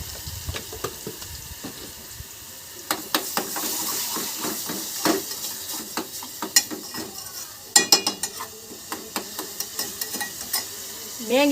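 Oil spitting and sizzling in a pan while Maggi noodles are made, a steady hiss broken by sharp crackling pops and scraping stir clicks, fairly close and loud, with no speech.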